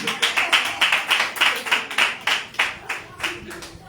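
A church congregation claps in a steady rhythm, about four sharp claps per second, crisp and close throughout.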